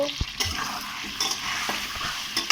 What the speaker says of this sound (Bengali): আলুগুলো নুন হলুদ দিয়ে ভেজে নেব